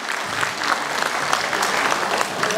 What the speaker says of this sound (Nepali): उहाँहरू सबैजनाको लागि पुनः एकपटक जोरदार ताली दिनु हुन अनुरोध गर्न चाहन्छु